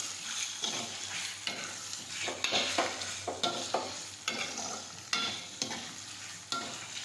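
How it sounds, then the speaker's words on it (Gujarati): A gravy mixture for muthiya dhokla stirred in a hot pan: a continuous sizzle with regular spatula strokes scraping and slapping through it about once a second, close and clear with no talking. "હવે આ રીતે મિક્સ કરી દઈશું."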